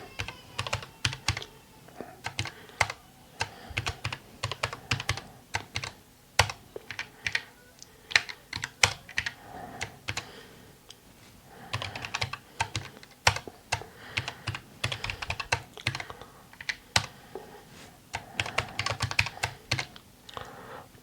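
Code is typed on a computer keyboard in steady bursts of crisp, close key clicks with short pauses between runs of keystrokes, heard alone without speech.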